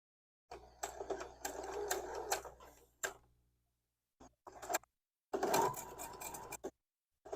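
A sewing machine stitches quilt block pieces in close, fast rhythmic bursts of whirring and ticking, separated by short pauses of silence.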